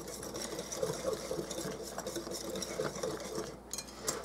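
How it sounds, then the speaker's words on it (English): A whisk stirs strawberry milkshake pie filling with berries in a bowl, giving steady close scraping and clinking against the bowl throughout, with no talk. "Just get it all whisked in there really good."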